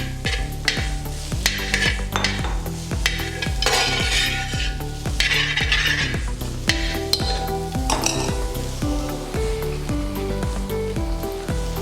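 Shallots and grated coconut fry in hot coconut oil for a Kerala beef kaya peralan, a busy crackling sizzle under rhythmic spoon scrapes and clanks against the pan, close and continuous without speech.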